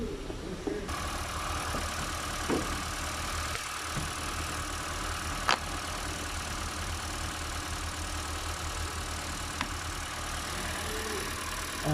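Engine of a Ford Escape idling in place during a repair for oil mixed with coolant, a steady low rumble with faint knocking, continuous and fairly quiet, with a few small clicks and taps over it.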